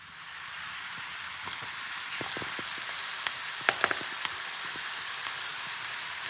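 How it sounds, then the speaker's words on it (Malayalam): Beetroot pieces frying in hot oil in a pan: a steady, even sizzle with scattered small pops and crackles, close and moderately loud. "നമ്മുടെ ഓയിൽ നന്നായിട്ട് തിളച്ച് വന്നതിന് ശേഷം നമുക്ക് നമ്മുടെ ബീട്രൂട്ട് കുറച്ചായിട്ട് ഇട്ട് കൊടുക്കാം"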